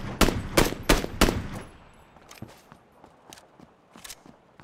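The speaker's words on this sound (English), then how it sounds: "Ravechild will put up a few more shots here as he tries to get the fleeing cars from FeedAndFeed here." Rapid gunfire bursts in the battle royale game PUBG during a scrim match, four loud evenly spaced shots opening the sequence, followed by fainter scattered distant shots and footsteps.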